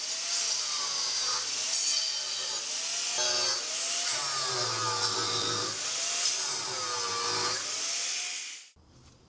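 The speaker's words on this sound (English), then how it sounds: "we're gonna have to cut like a little bit of his weld" A cutting tool grinds steadily through a weld on a boat hull, a loud continuous harsh whine with wavering pitch and low rumbling surges, running for about eight seconds before cutting off abruptly.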